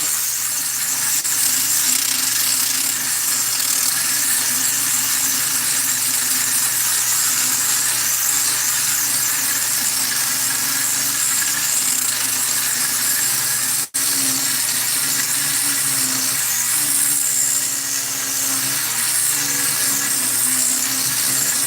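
A power tool grinds and polishes an engine intake or exhaust port on a 350, giving a continuous loud high whine with no speech and a brief break near the middle.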